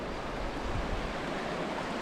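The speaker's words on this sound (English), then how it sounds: "So here's the Fremont River." The Fremont River in Capitol Reef National Park, Utah, rushes past in a steady, broadband hiss of moving water, close and constant with no pauses.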